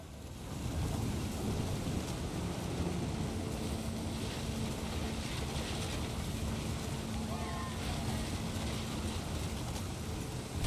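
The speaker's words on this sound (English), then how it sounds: "The thunder sounded much too close and full of angry power." Thunder rumbles steadily under heavy rain in the video game What Remains of Edith Finch, a continuous dense storm roar throughout with no distinct cracks, and a voice narrates over it.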